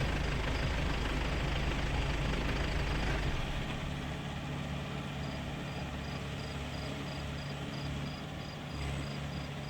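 A Mahindra 575 Yuvo Tech+ tractor engine drones steadily up close while the tractor strains to pull free. The deep rumble is heavier for the first few seconds, then settles into an even, continuous hum.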